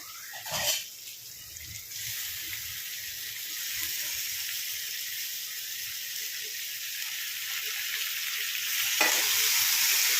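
Drumstick and tomato curry frying in a pan gives a steady, loud sizzle throughout, broken by a few sharp spoon-against-pan scrapes and clinks while the tomatoes are stirred in.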